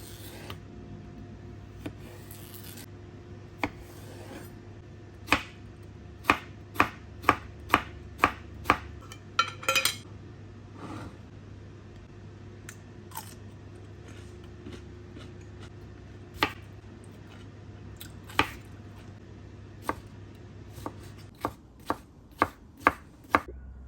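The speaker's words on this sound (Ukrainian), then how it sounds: "Нарізати е, наші овочі так, щоб це було гарно, естетично." Knife chopping vegetables for Olivier salad on a cutting board, sharp irregular knocks that come in quick bursts, then pauses, close and clear over faint kitchen hum.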